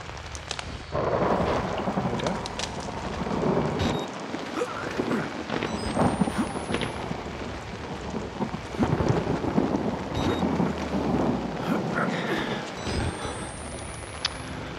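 Thunderstorm with lightning in the horror game Outlast, a steady broadband wash of rain with deep rolling thunder swelling at intervals, loud and continuous throughout with faint game sounds layered over it.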